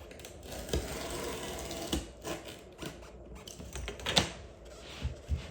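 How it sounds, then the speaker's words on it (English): A blade trims the edge of guitar amp grill cloth, giving scattered close scraping cuts and small knocks at an irregular rhythm against quiet background noise. "I'll take my blade and I'll come back and I'll trim this edge."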